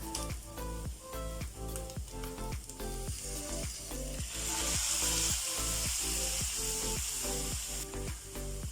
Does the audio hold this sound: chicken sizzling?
yes